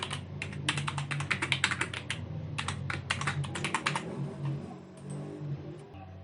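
Rapid keystrokes on a computer keyboard as a password is entered, a dense run of close, crisp clicks in uneven bursts that thins out toward the end, with no voices.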